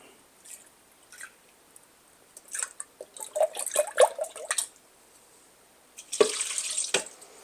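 About a cup of soy milk poured into a mixture for a plant-based sunflower seed queso, a short liquid splash and glug that comes late after scattered small clicks and drips, close and fairly quiet.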